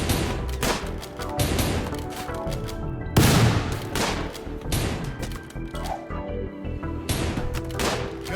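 Gunfire in the colony-survival game Rimworld during a firefight: repeated loud bursts of shots in irregular clusters, one especially heavy volley near the middle, with quieter ringing gaps between.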